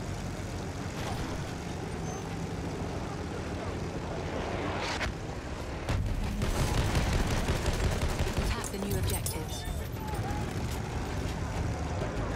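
Artillery barrage in the video game Battlefield 1, a steady roar of distant booms and crackling fire that swells louder partway through, with scattered sharp bursts over the din.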